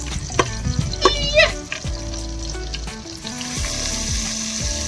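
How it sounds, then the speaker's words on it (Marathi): Garlic frying lightly in oil over a campsite stove outdoors makes a loud, close sizzle that opens with a few sharp clinks of stirring and then holds as a steady hiss. "आपण आता लसूण टाकले, हलकी फ्राय करून घेतोय."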